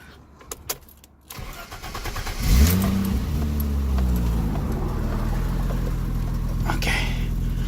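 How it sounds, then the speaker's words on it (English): A BMW E30, just fitted with a used replacement alternator, is started: a few clicks come first, then the engine cranks, catches with a brief rev and settles into a steady, close idle. "Ready to turn on the car."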